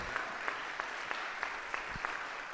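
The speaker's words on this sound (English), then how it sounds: "Just give a round of applause for Nora coming all the way here" Faint, sparse clapping from a small audience at a conversation event, a handful of separate claps spaced at a steady, unhurried rhythm.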